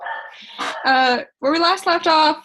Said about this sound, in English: if you will excuse my dog in the background